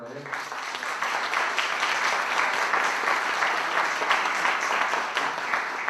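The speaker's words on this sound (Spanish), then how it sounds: "Por favor, un aplauso para él." Steady applause from the audience at a legal conference on Mexico's new Amparo law, a thick, even roar of clapping hands welcoming a magistrate, continuous from start to finish.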